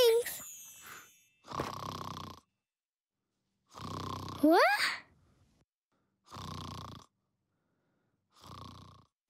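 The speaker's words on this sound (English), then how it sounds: "I think I can see some snores." Cartoon character snoring in an animated children's show: five slow, evenly spaced snores with quiet gaps between them, and a brief spoken word in the middle.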